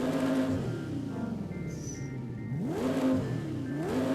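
Audi RS6 fitted with a V10 engine revving from the interior view in Forza Horizon 5, a loud continuous engine drone whose pitch sweeps up and down through repeated revs, with no talk.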